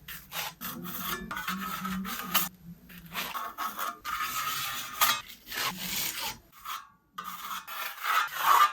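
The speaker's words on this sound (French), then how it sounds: "J'ai fait beaucoup trop d'enduit, donc là je vais l'utiliser pour reboucher les trous" A scraper or knife drags wall filler across a wall to fill holes, giving repeated rasping, scraping strokes of varying length with brief pauses between them, close up and alone.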